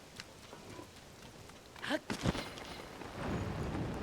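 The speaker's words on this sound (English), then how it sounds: "It's raining again." Rain falls in the video game Tears of the Kingdom, a soft steady patter that grows heavier toward the end, with brief thumps and a muffled voice partway through.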